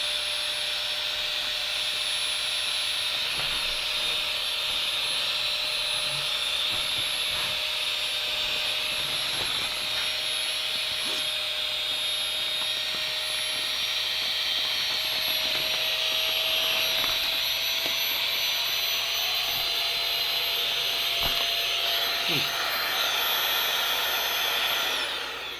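A portable mini electric air pump running steadily while inflating an air mattress, a loud, constant high-pitched whirring drone held for the full duration with only small shifts in tone, no talking.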